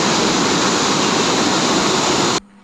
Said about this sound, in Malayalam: ഇതിൻ്റെ ആ വെള്ളച്ചാട്ടത്തിൻ്റെ അടിയിലൊക്കെ നമുക്ക് പോയി നിൽക്കാൻ പറ്റിയിരുന്നു.